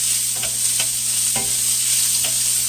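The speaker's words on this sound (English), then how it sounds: "we want to saute these until they're glistening" Onions sauteing in a pot for vegetable beef and deer meat soup, a steady close sizzle with a few sharp stirring clicks, no voices.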